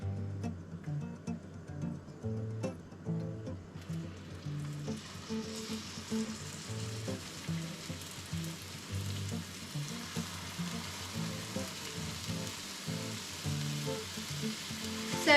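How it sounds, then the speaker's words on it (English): Meatballs frying in a hot cast iron pan give a steady, moderate sizzle that runs unbroken throughout, with no talking over it. "you want to put your meatballs in there"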